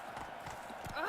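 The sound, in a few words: horse Roach trotting in video game The Witcher 3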